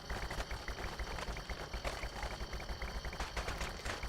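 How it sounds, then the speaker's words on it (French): Corn plant in Plants vs Zombies Garden Warfare 2 firing its double corn machine guns, rapid repeated bursts in a fast even rhythm throughout, fairly quiet and distant. "Le maïs, il a double mitraillette de maïs."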